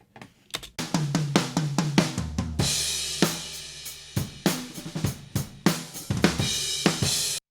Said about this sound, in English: I also used another pair of overhead microphones, some pencil condensers,